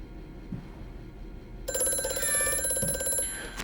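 An old telephone in Amnesia: A Machine for Pigs starts ringing partway through, a loud, bright, rapidly trilling bell that rings for over a second and then stops, with a dark rumbling ambience before and after.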